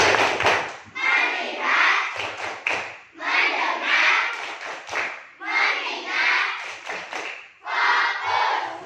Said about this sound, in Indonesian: kalau begitu tepuk konsentrasi